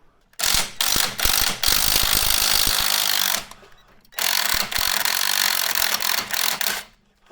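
Loud, close ratcheting as an 18mm spanner works a suspension strut nut loose on a VW Golf Cabrio, in two long rapid bursts separated by a short pause, with no talking.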